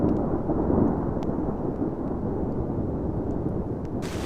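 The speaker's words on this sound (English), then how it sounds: "Now the storm's blowing in pretty severely." Thunderstorm with heavy rumbling thunder rolling low and steady, rain and gusting wind beneath it, and a brief sharp burst near the end; no one speaks.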